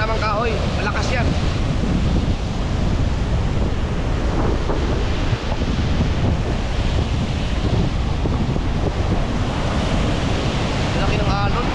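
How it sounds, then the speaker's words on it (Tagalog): Big ocean surf rolling in during the southwest monsoon, a steady loud roar of breaking waves and gusting wind rumbling across the microphone for the whole stretch, with no clear speech. "Laki ng alon."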